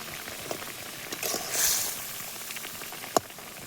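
Potatoes simmer in a pot of water for a tomato sour dish: a faint, continuous bubbling hiss with a swelling burst of boiling partway through and one sharp pop near the end, with no talking.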